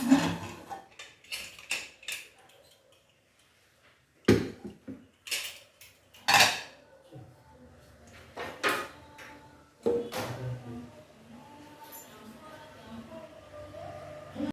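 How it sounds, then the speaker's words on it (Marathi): A pressure cooker holding a milk and colostrum kharvas pudding is opened after four whistles, with several sharp metallic clanks and clicks of the lid and utensils spaced out over a quiet kitchen background. "मी कुकर आपल्याला उघडून दाखवते"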